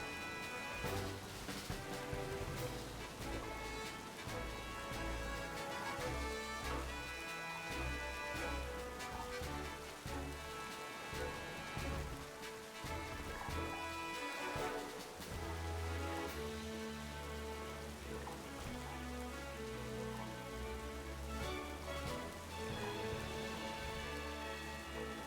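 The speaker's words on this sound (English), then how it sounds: "And now it rains." Steady rain falls in the Pokemon Violet video game, a constant wash of drops heard faintly and mixed with background game music throughout, no voices.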